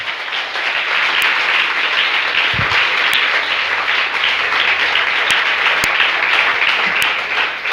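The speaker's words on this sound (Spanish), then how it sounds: "recibimos tu palabra con un fuerte aplauso en esta tarde, Señor Jesús." Congregation in a Spanish-speaking church service breaks into loud, sustained applause, a dense, even roar of many hands clapping close by for several seconds, with a few sharper individual claps standing out.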